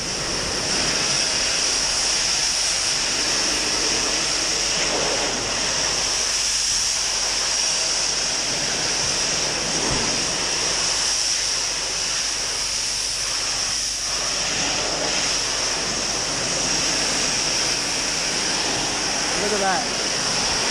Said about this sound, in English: So we wash the gable first.